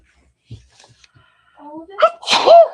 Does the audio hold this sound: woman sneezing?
yes